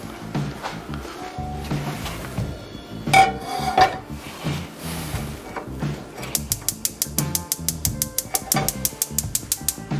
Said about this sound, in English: I'm gonna transfer this to the back, and I'm gonna get our other pan